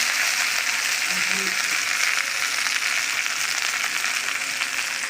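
Ingredients for a Bengali taro and tangra fish curry fry in a pan with a steady, soft, continuous sizzle. It sounds close and even throughout, with no clear stirring strokes.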